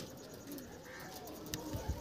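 Large pigeons in a breeder's loft give soft, low cooing in short repeated phrases, close by and faint, alongside a few light knocks and rustles.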